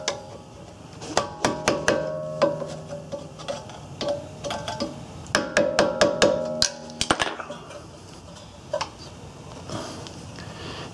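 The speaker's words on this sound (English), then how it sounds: "we're going to take our screwdriver and we're going to tap right there where it goes into the hole" A screwdriver taps a brake clip into its hole during a rear brake pad and rotor job on a Ford Escape, giving a series of sharp metallic ticks and taps in irregular bursts, close and fairly loud, with a faint ringing tone.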